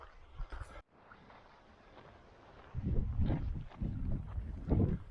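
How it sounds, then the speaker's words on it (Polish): Gusty wind at sea buffets the microphone in irregular rushes, growing stronger and rougher toward the end, with no other clear sounds. "Wiatr się nam rozhulał"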